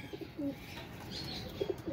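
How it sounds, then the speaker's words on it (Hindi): Soft pigeon coos come in short bursts over a quiet background hiss, a few calls spread across the moment, fairly faint. "नया कबूतर है, क्या बात है, नस्ली कबूतर है।"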